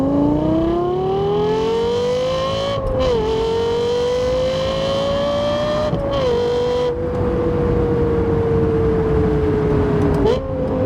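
A Lexus LFA engine revs and pulls as the car drives, a loud, smooth rising wail that climbs steadily, dips briefly at each gear change, then climbs again several times.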